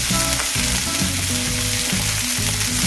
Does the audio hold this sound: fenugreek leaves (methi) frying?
yes